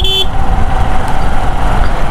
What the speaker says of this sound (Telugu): హారన్ కూడా మంచిగా వస్తుంది